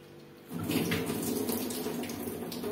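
Tap water runs steadily into a sink as prawns are rinsed for a Kerala-style fish fry, the broad rushing wash starting after a quiet half-second and continuing close and even to the end.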